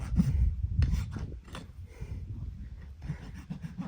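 A farrier's rasp scraping a horse's hoof capsule edge, with rough, repeated strokes in an uneven rhythm, close and moderately loud, with low thuds and shuffling underneath.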